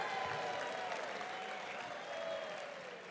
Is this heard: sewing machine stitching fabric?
no